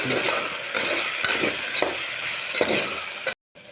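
Salt, chili powder, garam masala and coriander powder are stirred together in a hot pan for dal khichdi, giving a loud continuous sizzle with repeated scraping strokes, then a brief silence near the end.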